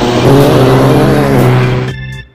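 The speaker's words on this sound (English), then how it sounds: "why is there a race car down the street?" A race car roars loudly along a street, its engine note strong and sustained before cutting away abruptly near the end.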